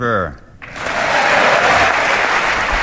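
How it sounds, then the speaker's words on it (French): Members of the US Congress burst into sustained, dense applause for Emmanuel Macron, rising just after a short spoken phrase and holding steady and loud. "toute la gauche se lève d'un coup, applaudissements nourris"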